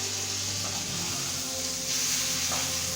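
Steak sizzling in a hot pan just after being flipped, a steady, close, bright frying hiss that swells slightly partway through, with no talk.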